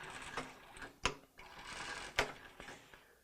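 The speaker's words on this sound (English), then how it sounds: "we're going to come back and put down another line of stitching" A sewing machine lock-stitches hammock fabric in short quiet bursts of rapid mechanical whirring, punctuated by a few sharp clacks as the fabric is adjusted, close and unaccompanied by talk.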